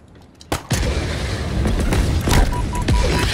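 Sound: heavy gun firing, from video game Halo Infinite

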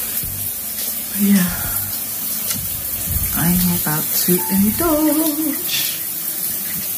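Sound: outdoor shower water running

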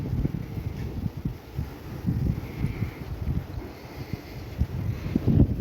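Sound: strong wind

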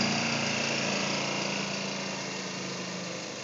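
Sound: TB200 roller brush working top dressing into golf greens

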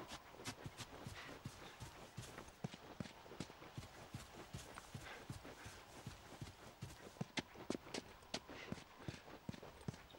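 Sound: horse hooves clip-clopping, from video game The Last of Us

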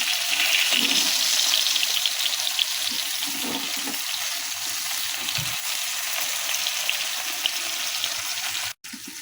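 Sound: prawns frying in a pan

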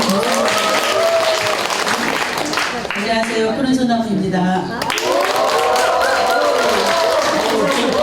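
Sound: fans applauding

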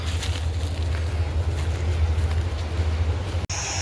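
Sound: wind blowing

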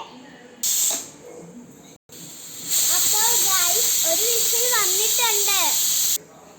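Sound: pressure cooker whistling while boiling eggs on gas stove

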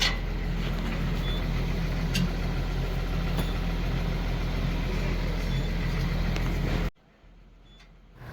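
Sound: BS3 truck engine idling

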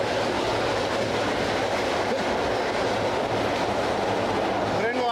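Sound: old CFR train carriages rattling while moving

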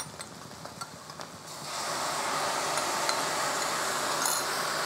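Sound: sauce added to frying garlic in a pan

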